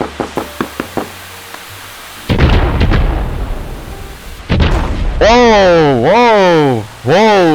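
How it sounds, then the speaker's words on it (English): Fireworks go off in the video game Fireworks Mania: a quick series of sharp pops, then a loud roaring blast and rumble, followed by whistling, sweeping tones that rise and fall repeatedly, loud and close. "You just caused an explosion, my friend."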